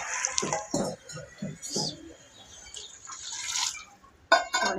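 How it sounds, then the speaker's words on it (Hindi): Lentils (dal) being washed in water in a home kitchen, with close splashing, swishing and dripping in irregular bursts, the loudest splash coming near the end. "पानी और दाल भी धो लेने, मैं साफ कर ली थी मसल और दाल।"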